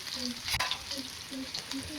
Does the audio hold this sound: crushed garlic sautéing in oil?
yes